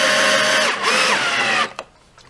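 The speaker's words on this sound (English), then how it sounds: "I'll drill all the other holes." A power drill bores holes for the neck bolts during guitar assembly: one steady high whine runs for about a second and a half, dips and pitches as load changes, then stops abruptly with a brief clatter, close and alone.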